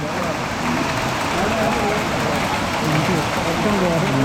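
Dense, steady rain mixed with hail pours down with a rough patter on surfaces on the Tungnath trek, and voices talk faintly underneath throughout.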